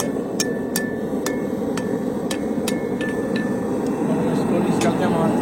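A Sicilian blacksmith hammers hot wrought iron at about 600-700 degrees into an S shape, with around a dozen sharp, ringing metallic strikes at irregular intervals over steady background noise.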